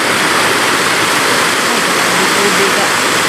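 Water rushes loudly through a flooded stream during a storm, a dense, steady roar filling the whole clip with no break, close to the listener and masking any other sound.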